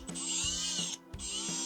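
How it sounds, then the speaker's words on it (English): A power drill bores through a metal guard for a custom-built compressor, whining at a steady high pitch in two long runs separated by a brief pause, loud and close. "So we're going to drill this."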